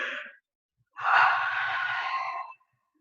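A long, breathy yawn in a quiet room during a guided yoga nidra relaxation session, preceded by a shorter exhaled breath, with silence between them.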